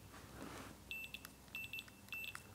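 An electrical continuity tester beeps in short repeated bursts, three groups of quick tones, as a mk2 VW Golf GTi rear window demister switch closes; quiet, with no talking.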